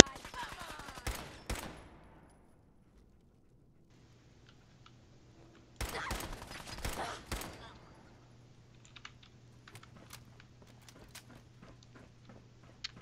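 Rapid automatic gunfire in Fallout 4 comes in two loud bursts several seconds apart, separated by a quiet lull with scattered faint clicks and a low hum.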